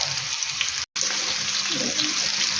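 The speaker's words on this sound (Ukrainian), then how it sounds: "голубчики всі помістила тут і буду зараз смажувати з однієї сторони" Lazy cabbage rolls fry in a pan with a steady, close hiss and sizzle. The sound cuts out for a split second partway through.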